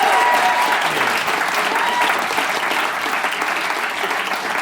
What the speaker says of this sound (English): Mason, a big round of applause.